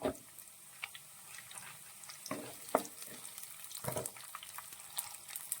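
Shallots fry in oil for a tomato fish curry, a soft sizzle punctuated by irregular louder crackles and bursts, fairly quiet and close, with no talking.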